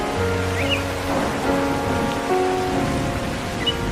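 Steady rain pours down in a cartoon scene, a dense, even hiss that holds loud and constant from start to finish with faint tonal background music beneath.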